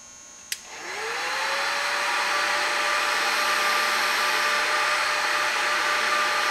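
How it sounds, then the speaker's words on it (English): Heat gun blowing hot air onto a bolt where it threads into the front wheel bearing of a 2002 Chevy dually pickup, switching on with a click and rising to a steady, loud whooshing roar that holds throughout. "So what I'm gonna do here is I got a heat gun"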